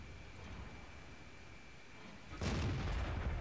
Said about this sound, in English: He's shooting through bushes, he's shooting at distance.